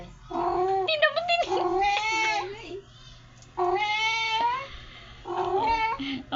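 A pet cat at home meows loudly and close by, giving several drawn-out, wavering calls in separate bursts with short pauses between them.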